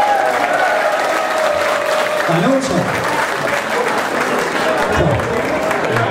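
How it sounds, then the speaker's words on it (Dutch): A crowd at a music festival gives a long round of applause and cheering, loud and continuous, while someone speaks briefly over it. "nog een keer applaus voor jou."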